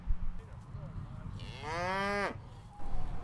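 Cattle on a farm, with one long, loud, close moo rising and falling in pitch, framed by quieter barnyard noise and faint low bellows before and after.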